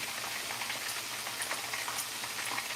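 Coconut oil sizzling in a heating waffle maker, a steady soft crackle with faint spattering that carries on evenly throughout, fairly quiet and with no voices.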